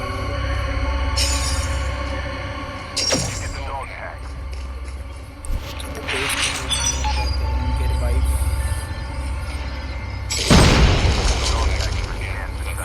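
Rocket launcher blasts in Call of Duty land as several heavy booms and bursts over a continuous rumbling game soundtrack, the loudest explosion coming near the end, with a voice talking over parts of it.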